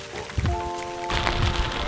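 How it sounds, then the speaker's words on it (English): An outdoor spring shower of rain, sleet and hail at a carp fishing lake, a dense steady patter that swells louder midway and hisses over a low rumble of wind. "the heavens opened with rain and sleet and all sorts"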